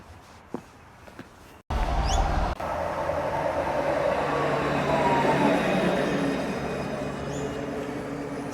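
A few quiet clicks, then the low, steady rumble of a tram in motion, with rail squeals and a whining hum building up.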